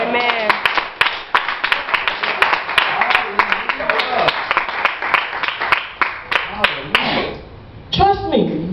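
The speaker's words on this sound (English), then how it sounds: "God would give God a hand clap for that." A church congregation clapping hands, loud rhythmic claps close by mixed with excited voices and shouting, a brief lull near the end before voices resume.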